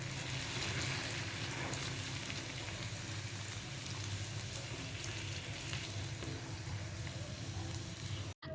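Luchi puffing as they deep-fry in hot oil, giving a steady, dense sizzle and crackle that runs unbroken throughout before cutting off abruptly at the very end.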